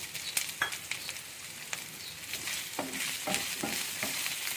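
Potato pieces sizzle and fry in a pan for an eggplant, tomato and potato curry, with scraping stirs and clinks of a spoon against the pan over a steady crackle, close by.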